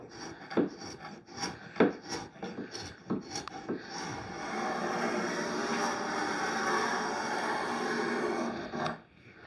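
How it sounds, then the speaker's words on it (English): Rough scraping strokes rasp across an 1880 walnut washstand, removing shellac, several short separate passes followed by one long steady scrape, close up with no talking. "we're just going to do a little scraping"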